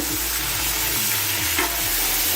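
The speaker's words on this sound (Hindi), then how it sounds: "इसे अच्छी तरह भूनेंगे" Tomato masala with a little water, black pepper, cloves and fried paste sizzles in a pan for chicken korma as a spoon repeatedly scrapes and stirs, the rhythmic strokes clear and close over a steady frying hiss.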